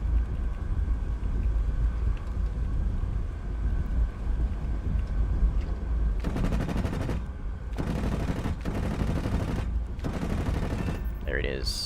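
Bursts of .50-caliber machine-gun fire from a fighter aircraft in War Thunder air simulator battles, several loud sustained volleys in the latter half over a constant engine and wind roar.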